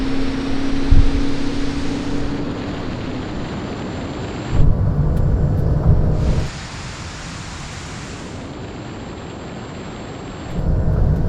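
A Porsche 911 Turbo S accelerates at full throttle in a drag race on a runway: a broad, roaring rush of engine and wind noise, loud and close, that surges and drops back in waves as gears change.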